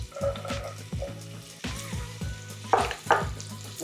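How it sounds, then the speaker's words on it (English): Chopped onion and garlic sizzle in hot oil in a pan for Filipino arroz caldo, with a steady crackling fry and repeated clanks and scrapes of a stirring utensil, close and fairly loud. "You can kind of hear it sizzling and you can smell it."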